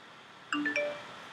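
A computer plays a short, quiet completion chime when iTunes finishes a task. A few soft bell-like tones ring out together over a faint background hiss.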